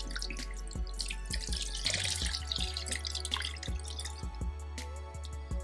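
Water pours from a tap onto a compressed coco fiber block being soaked for a hognose snake lay box, a steady splashing stream with scattered drips over a low constant hum.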